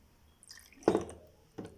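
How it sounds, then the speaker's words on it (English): Water poured into small 50 millilitre glass beakers for a density lab, a brief splashing pour near the middle followed by a short second trickle, close and fairly quiet with no talk. "we're going to put some water in them"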